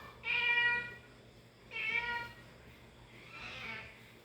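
A house cat meows near a kitchen where stir-fried bitter gourd with black beans and roast pork is being cooked, three drawn-out calls spaced about a second apart, the last one fainter and breathier.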